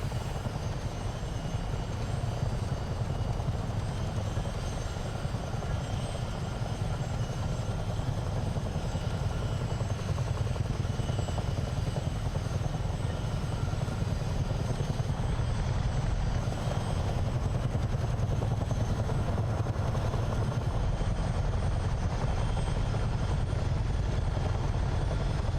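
A CH-47 Chinook helicopter hovers near a runway over the Potomac River in Microsoft Flight Simulator, its twin-rotor and turbine drone a loud, unbroken roar that holds steady throughout.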